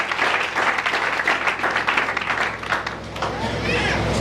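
A church congregation at a seminary closing service bursts into dense, close applause, many hands clapping together with shouts and voices mixed in.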